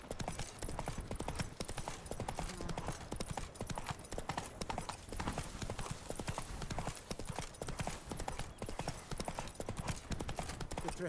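Geralt's horse Roach trots in The Witcher 3, its hooves keeping up a steady, unbroken clip-clop rhythm for the whole stretch, fairly close, mixed with other game sound.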